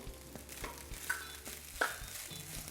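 A spoon scrapes and stirs roasted peanuts and rice in a pan for coconut rice, giving a few soft scraping strokes over a faint sizzle, with no voices.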